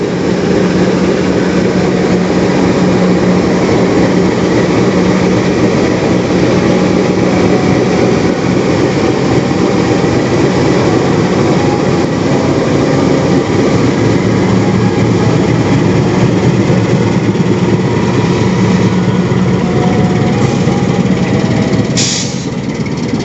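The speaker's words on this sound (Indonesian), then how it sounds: "Kereta api Turangga dengan tujuan Surabaya Gubeng diberangkatkan dari stasiun Banjar" Turangga passenger train bound for Surabaya Gubeng departing Banjar station: a loud, steady rumble and rolling clatter of railcars passing close by without pause, ending in a brief high squeal.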